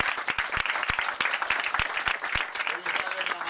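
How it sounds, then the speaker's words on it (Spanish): Audience applause at a museum interview event in Spain, a crowd clapping with sharp, irregular hand claps over a few seconds, with a voice speaking over it. "pido un aplauso"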